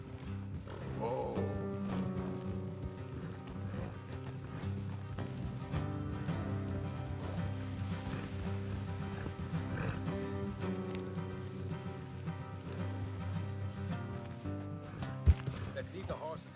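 Horses clip-clopping along in the Red Dead Redemption 2 game world, steady hoofbeats running throughout with an occasional whinny, mixed with voices talking and background game sound.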